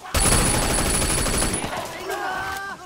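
Rapid gunfire rattles loud and close in the video game Sleeping Dogs, a sustained burst of automatic shots that fades near the end, where game tones and a voice come in.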